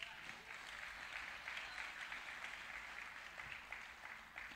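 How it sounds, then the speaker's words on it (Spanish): Steady applause from a church congregation during a Sunday service, a dense even wash of clapping that fills the whole stretch at moderate distance. "Dale un aplauso a Cristo."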